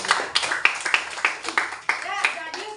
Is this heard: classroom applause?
yes